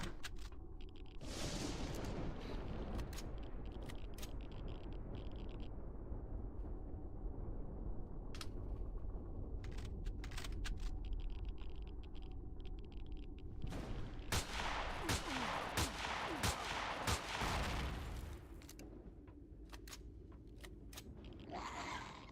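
Sustained automatic gunfire in Empyrion: Galactic Survival, long continuous bursts with a pause in the middle, then another heavy stretch of shooting before it eases off.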